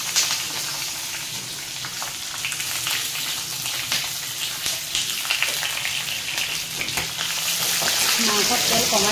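Spiced meat frying in hot oil in a kadai, a loud, continuous close sizzle with stirring scrapes that thickens toward the end.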